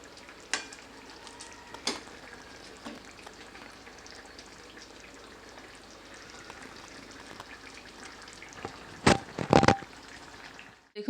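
Egg curry with chopped coriander bubbling and sizzling steadily in a pan, with a few sharp clinks of a spoon stirring it near the end.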